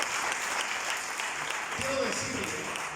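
Church congregation applauding steadily, a fairly faint wash of clapping throughout, with a voice speaking over it near the end.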